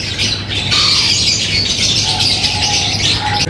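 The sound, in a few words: opaline lovebirds and other cage birds at a bird market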